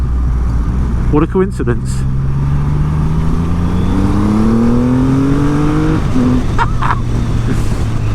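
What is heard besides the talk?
2020 Triumph Rocket 3 motorcycle engine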